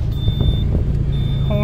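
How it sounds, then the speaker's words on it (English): A 2005 Lotus Elise horn sounds as a steady tone near the start, breaks off, then returns at the end, over a constant low engine rumble with a brief voice mixed in. "horn."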